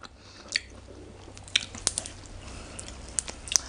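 Fresh vegetable leaves are chewed up close, with soft crunchy bites and moist squishing scattered irregularly over a quiet background.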